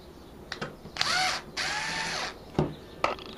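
Guitar strap pin being unscrewed with a power drill: several short bursts of the motor whining up and winding down, two longer runs in the middle and brief clicks between them, close and fairly loud.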